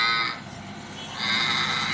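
A voice imitating a cow's moo with two drawn-out, droning calls that swell, dip and swell again, loud and close, with no other sound.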